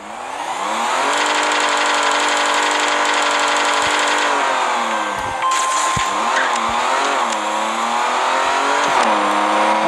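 A Dodge Charger SE launches hard in a drag race, engine roaring loud and close as it revs up through the gears, with shifts and brief dips in pitch before it pulls on.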